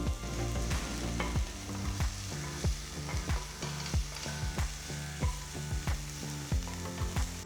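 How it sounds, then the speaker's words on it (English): A finely chopped large onion with green chilies, garlic and ginger fries in about three teaspoons of oil in a pan; a constant sizzle is punctuated by regular, evenly spaced stirring strokes. "To a pan, add about 3 teaspoons of oil. To this, add 1 large onion finely chopped."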